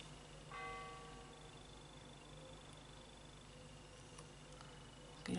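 Faint, distant church bells ring softly over a steady background hiss, with no voices.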